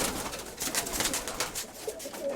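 Pigeons in a loft or dovecote coo continuously, with soft overlapping calls and bird chatter close by, alone without talk.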